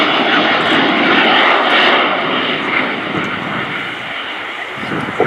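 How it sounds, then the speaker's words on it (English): Swiss Air Force F/A-18C Hornet fighter jet flying past at an air show display, a loud roaring engine rush that swells early and slowly fades as it passes, heard alone without talk. "Captain Nicolas Rossier, nicknamed Vincent, in the A-18C Hornet."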